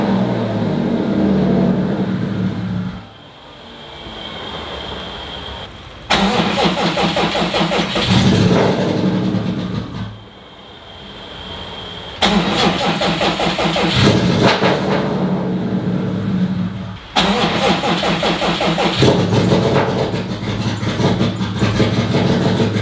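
A Subaru STI with an H6 engine starts, idles, and is revved several times, loud and close, with dips back to a rough idle between surges.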